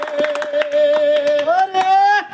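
Hands clap in a steady rhythm beneath a man singing a Baul folk song, the claps sharp and close, keeping time while the melodic voice carries over them.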